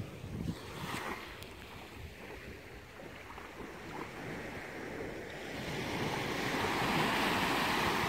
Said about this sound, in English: Here's Bai Xep Beach. This is actually the private beach for Avani Resort.